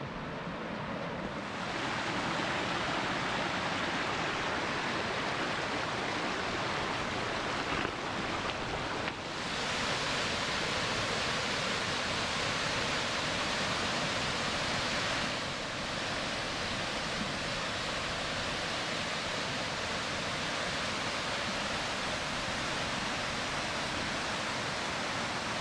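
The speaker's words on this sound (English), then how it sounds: "A beautiful waterfall here." Waterfall in the Scottish hills near Ullapool, a broad, steady rush of falling water heard close and loud, unbroken for the whole stretch with faint wind buffeting.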